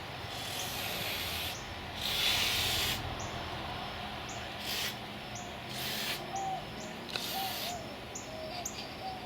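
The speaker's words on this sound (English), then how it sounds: "I'm going to spray some dry lube on mine." Several short hissing bursts of dry lubricant aerosol spray, close and intermittent, with brief pauses between; faint bird chirps sound in the background.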